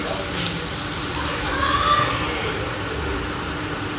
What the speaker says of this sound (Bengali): তো এই মাছটা অনেকটা ভয় ভয় করে ছাড়ছি, প্রচুর পরিমাণে তেল ছিটকায়